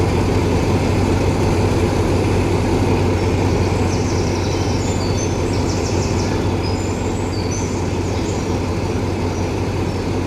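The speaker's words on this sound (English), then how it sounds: "The locomotive will load cron 2 and then increase the RPM." Simulated DE 24000 diesel locomotive in Train Simulator, a steady heavy low engine drone with a loud continuous rumble and faint higher whines, no clear rise in pitch.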